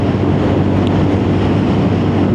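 Steady, loud wind roar buffets the microphone while riding a Lexmoto R66S motorcycle in very windy weather, a dense continuous rush with no break and no voice.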